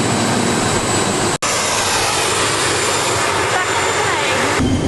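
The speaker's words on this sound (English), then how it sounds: "Back on the smallest plane we have ever ridden on." A small Air Swift passenger plane's cabin roar stays loud and continuous from start to finish, with one brief dropout near the start; people talk over the drone.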